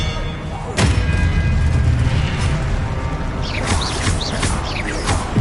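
A spell is cast in a Harry Potter wizarding video game, a sharp whooshing crack followed by thumping, clattering magical impacts and rising whistling effects over a rumbling game backdrop.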